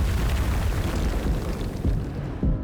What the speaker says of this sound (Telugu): బ్లాస్ట్.